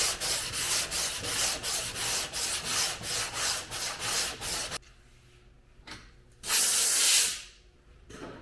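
Rhythmic back-and-forth sanding strokes on a Fastback Mustang quarter panel give way to short hissing bursts and one long spray of guide coat from an aerosol can, close up with no talking.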